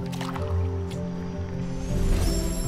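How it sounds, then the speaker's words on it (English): Ori swimming through water in the video game Ori and the Blind Forest: soft watery splashes and drips over a sustained tonal game-music backdrop, ending in a louder watery swell. "Swimming, swimming in the beautiful clean water."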